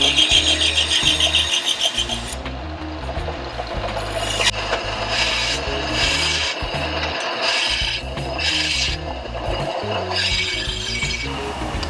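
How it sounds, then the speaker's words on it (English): Excess wood is cut off wooden control grip blanks with a saw, producing a near, loud, rasping cut with rhythmic bursts and short pauses throughout, with no voices. "we'll make some markings to cut off excess material"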